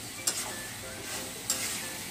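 Boiled local potatoes fry with beef tripe in a pan, a soft steady sizzle with two brief stirring scrapes, quiet and without talk.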